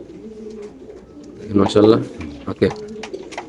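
A Pakistani racer pigeon coos in low, repeated throaty bursts at close range, mixed with a man's speech and faint background bird sounds.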